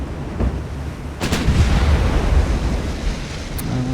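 Naval artillery in the Ultimate Admiral: Dreadnoughts game booms with a deep, rumbling blast over a continuous low roar of sea and engine noise, loud and close.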